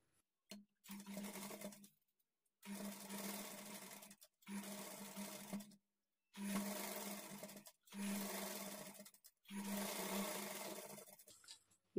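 A sewing machine stitches the lining of a blouse in six bursts of whirring, each lasting one to two seconds and separated by short silent pauses, close and fairly quiet.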